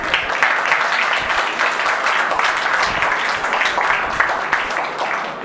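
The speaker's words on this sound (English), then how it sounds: "big round of applause for all the winning teams." Sustained audience applause for the winning teams at a school English Week ad-making competition, a dense steady wash of many hands clapping throughout with faint voices mixed in.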